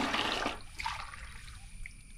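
Water splashing and trickling from a glass into a container as it is measured out for a curd-and-water mixture for rose plants, a brief quiet pour followed by faint dripping.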